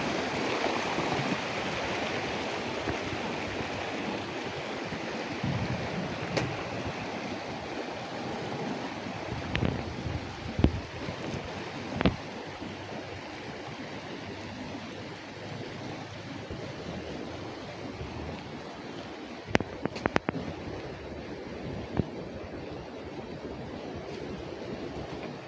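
Steady rushing roar of the Letang River in Nepal flows throughout, broad and close, with a few faint knocks and clicks over it and no talking.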